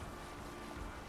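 A sailing ship under way on open water near the coast in Assassin's Creed Valhalla, heard as a brief, steady wash of water and wind noise, moderately loud and unbroken, with no voices.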